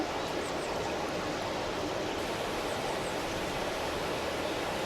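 Steady, full-bodied roar of rushing water, constant and unbroken like a nearby waterfall, with no voices.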